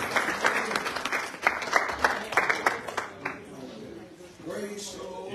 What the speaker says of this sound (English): Give the Lord a big hand clap of praise this morning